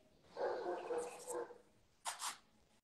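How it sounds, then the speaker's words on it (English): Dogs bark in the background during a nail art session, a couple of rough bursts set apart by a short pause, fairly distant and muffled. "Apologize for the vicious dogs in the background."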